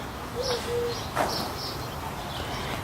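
A bird, likely a pigeon or dove, gives a couple of soft coos nearby outdoors, brief low calls over faint background noise with a short chirp after.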